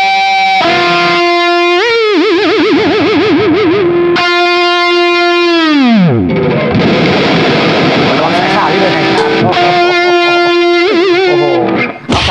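Loud distorted electric guitar from a Squier Contemporary Active Stratocaster HH with a Floyd Rose tremolo, sustained notes, vibrato bends and a dive-bombing pitch drop, played alone and close.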